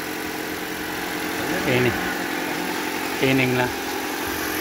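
Toyota Altis 2014 engine idling steadily after an ignition coil and spark plug replacement, a low even hum running throughout while people talk briefly over it.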